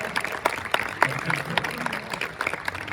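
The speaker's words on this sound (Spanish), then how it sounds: "Un fuerte aplauso para ella también." Audience applause at the opening ceremony of a fan convention in Oviedo, a steady crowd clapping of moderate loudness with voices talking over it.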